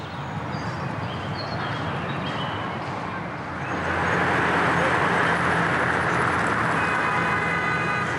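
Dense city traffic at Place de la Bastille in Paris: a broad, continuous roar of cars and buses that grows louder and fuller partway through, with no clear single vehicle standing out.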